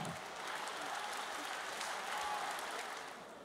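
Students and guests at a school graduation dance give a round of applause, a fairly soft, even patter of many hands clapping together for a few seconds before tapering off.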